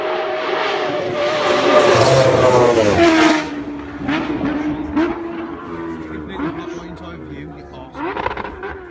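A 2015 Kawasaki Ninja H2 motorcycle with a 310-horsepower engine revs loudly and rises in pitch for about three seconds, then drops to a lower rumble with further short blips while people talk over it.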